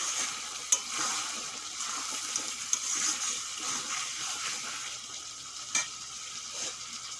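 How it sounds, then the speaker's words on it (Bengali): Layer chicken meat sizzles and crackles as it is sautéed in a pan. The frying hiss is soft and steady, with a few sharp pops and occasional stirring clinks. "আধা ঘন্টা ধরে আমি কষাচ্ছি মাংস"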